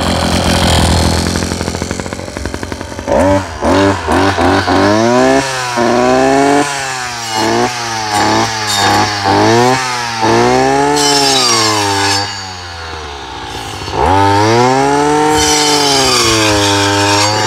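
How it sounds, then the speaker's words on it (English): A clearing saw is started and runs, its engine loud and close, revving up and down repeatedly in rising and falling whines, then dipping briefly before roaring again. "Make sure when you start a clearing saw the blade is clear at the ground or any obstructions"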